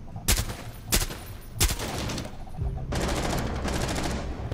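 Gunfire in the game Rainbow Six Siege: a few sharp, separate shots open, then a sustained automatic burst rattles on steadily, loud and close.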